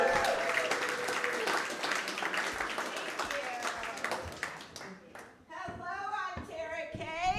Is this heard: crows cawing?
no